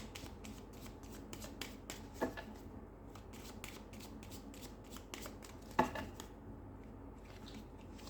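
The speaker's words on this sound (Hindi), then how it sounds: "इसमें से एक कार्ड निकालती हूँ" A shuffled deck of playing cards is handled as a card is drawn, giving a soft, steady riffle of papery flicks and snaps with a couple of sharper clicks, close and fairly quiet.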